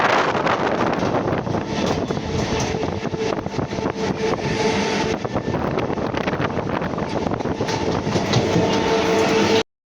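A train in West Bengal, India, arriving at Katwa, rumbles and rattles steadily throughout, with wind buffeting the microphone, loud and close from start to finish.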